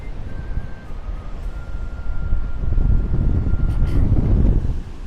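Strong wind in Funchal, Madeira, buffets the microphone in heavy, uneven gusts, building louder toward the end with a faint tonal hum underneath.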